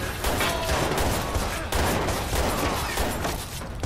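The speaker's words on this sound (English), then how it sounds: "I got a shotgun" Rapid gunfire from a shotgun and other weapons in the Watch Dogs video game, loud continuous bursts of shots with dense clatter filling the whole stretch.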